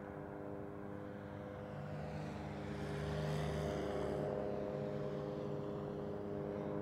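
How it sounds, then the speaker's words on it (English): A helicopter flies overhead in southwest Las Vegas, its steady low droning rotor hum filling the clip and swelling slightly louder midway before easing off, with no talking. "Damn, the helicopter's annoying, man."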